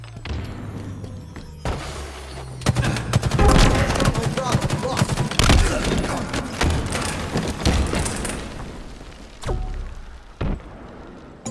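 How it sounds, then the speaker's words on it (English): Gunfire and a grenade blast from a tactical shooter video game: dense bursts of rapid shots and heavy thuds fill the middle, with sharp isolated reports near the end and faint voices underneath. "That nade hit me."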